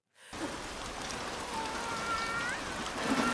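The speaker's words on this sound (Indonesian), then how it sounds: "air hujan yang mulai memasuki atap" Rain leaking through the roof of a shipping container, a steady broadband patter of drops with faint trickling water, moderately quiet and continuous throughout with no voices.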